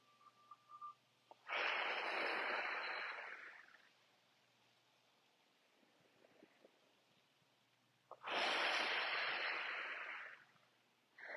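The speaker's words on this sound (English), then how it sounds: "Big breath in. Big breath out." Deep yoga breaths during a live class in Tadasana: two long, loud airy exhalations, each lasting about two seconds, separated by a quiet pause.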